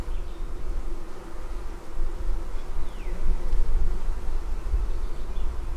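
Honey bees buzz steadily around an open beehive during queen installation, a dense, continuous hum close by with gentle swells in loudness and no voices.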